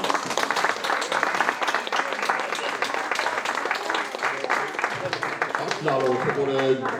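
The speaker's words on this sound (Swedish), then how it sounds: "Applåder för både dikt och sång." Audience applause at a Swedish poetry-and-song evening, steady dense clapping filling the room throughout, with a tonal musical sound entering near the end.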